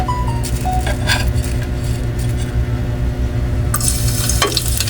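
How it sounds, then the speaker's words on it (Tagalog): Sardines sautéed with garlic for a misua dish crackle and sizzle in a pan, with a few light clinks of a utensil against the metal and a sharper burst of sizzling near the end, no voices. "So magigisa po ako ng sardinas sa miswa."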